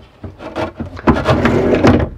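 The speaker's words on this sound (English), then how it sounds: "I have a drawer" A drawer at an RV workstation in a 2003 Thor Citation Supreme 34RLTS slides out with a run of close, loud wooden rumbles and knocks over about two seconds.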